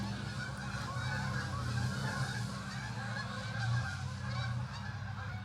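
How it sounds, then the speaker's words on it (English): Geese honk continuously in a returning flock, a dense overlapping chorus of calls at moderate distance, with no voices present. "Oh, the geese are coming back."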